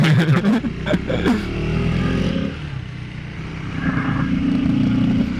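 Engine and intake noise from a KTM 390 Adventure or Royal Enfield Himalayan while riding, a steady close drone with a revving, clattering burst near the start.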